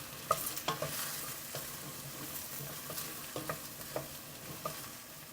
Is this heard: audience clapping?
no